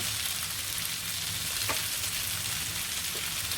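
Paneer in masala sizzling in a pan for an achari paneer karahi, a steady broadband frying hiss filling the whole stretch with a brief scrape of stirring partway through, close and even, no voices.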